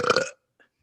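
A single short, loud burp right up close, lasting about a third of a second, followed by a faint small sound and then silence.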